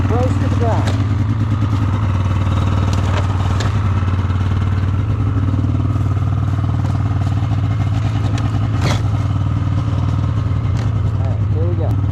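A snowmobile engine idles close by while warming up, a steady rough throbbing with light rattles and clatter throughout as people talk nearby.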